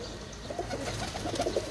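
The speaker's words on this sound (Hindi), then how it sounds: "ये सियालकोटी कबूतर है, ज़रा चेक करें।" A Sialkoti pigeon coos softly in short repeated bursts, close by against a steady hiss of rooftop ambience, with no talking.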